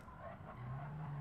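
A race car engine in a racing video game hums at a steady, low, faint drone, with its pitch rising slightly toward the end and no speech.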